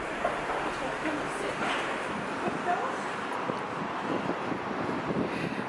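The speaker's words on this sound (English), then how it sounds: "Bit windy here." Steady wind buffets an outdoor microphone, a constant rough rumble and hiss filling the whole stretch with no clear breaks.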